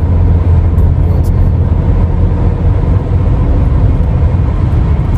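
A car accelerating on a Chicago street, heard from inside as a loud, dense, even rumble of engine and road noise with no talk.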